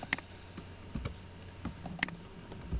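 Sparse computer keyboard typing, with a few scattered key clicks and taps at an uneven pace, fairly quiet against faint background hum.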